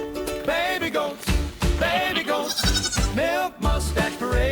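Baby goats and a mother goat bleat repeatedly on a farm, a run of loud, wavering cries close by, some high and thin and some deeper, following one another with short gaps and no talk.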